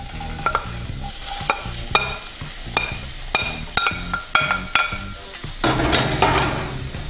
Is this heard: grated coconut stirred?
yes